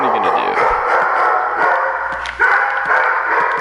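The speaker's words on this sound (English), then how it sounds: "But now my dog's barking at him" A dog barks and yips repeatedly over a continuous noisy background, with a voice speaking underneath.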